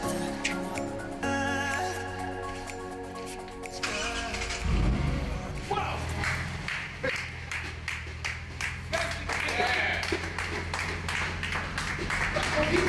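Toyota Altezza with a swapped 1JZ engine revving among noisy surroundings, a loud sustained engine rumble building after a few seconds with bursts of revs, while voices and a crowd are heard around it.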